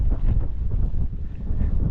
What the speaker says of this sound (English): Very windy though, you can probably hear it's windy, gusting through this Gap.